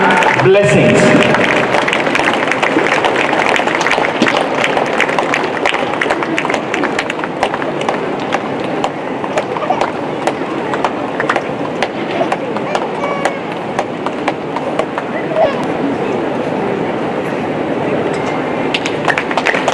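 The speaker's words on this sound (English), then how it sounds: "Please give a huge round of applause for Father for his wonderful guidance" A large audience gives a long, loud, sustained round of applause for Father General Arturo Sosa at a new college building inauguration at St. Xavier's College, Simdega. The dense clapping runs steadily from start to finish.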